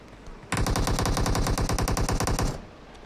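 Rapid automatic gunfire in PUBG, a single sustained burst of evenly spaced shots lasting about two seconds, loud and up front, with no talk.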